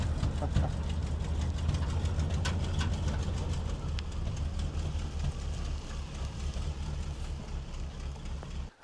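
A 1986 Chevy 30 dually ranch truck engine idles in a steady, low, fairly quiet rumble with light rhythmic clatter, running evenly before cutting off at the end.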